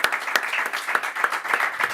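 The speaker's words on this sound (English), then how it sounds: "Like 5 people reluctantly clap." A handful of people clap sparsely and half-heartedly in a room, the claps scattered and uneven, fairly quiet and short-lived, with no speech.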